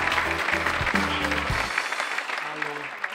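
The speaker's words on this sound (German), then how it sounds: "Und ich möchte, dass ihr laut und hysterisch klatscht für Martin Frank." Crowd clapping for comedian Martin Frank at a comedy competition stage show, a broad wash of applause under loud music, fading out partway as a brief tonal sting continues.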